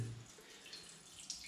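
Water draining from a home central heating system, a faint steady trickle and splash of running water with a small drip-like tick near the end, heard alone.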